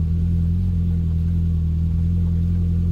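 An idling car engine hums steadily and loudly up close during a brake rotor and pad change, a continuous low drone with no voices.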